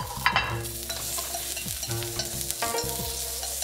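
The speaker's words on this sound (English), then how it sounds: "Next, saute the julienned cucumber." Julienned cucumber sautéed in a pan for Korean gu jeol paan, a steady soft sizzle with spatula stirring scrapes recurring through the clip, close and moderately loud with no talking.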